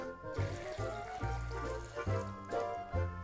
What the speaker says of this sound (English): and then we got to add water to it.